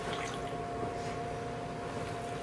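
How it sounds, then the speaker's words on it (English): About two cups of water pour steadily into a roasting pan for a turkey, a faint, continuous liquid trickle with a low hum behind it. "add about 2 cups of water into the pan. yeah, which I'll do right now"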